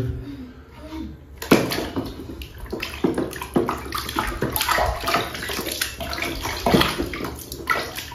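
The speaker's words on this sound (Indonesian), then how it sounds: "Oke, kita cuci teman-teman wajah ondel-ondelnya." Water splashes and sloshes steadily as the face of an ondel-ondel mask is washed, with sharp scrubbing and splashing bursts and faint voices underneath.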